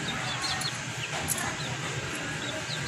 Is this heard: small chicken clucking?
yes